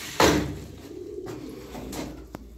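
Young ash-grey pigeons from a small group of birds offered for sale give a low, warbling coo that rolls on after a sharp opening burst, fairly close and steady, with no talking over it.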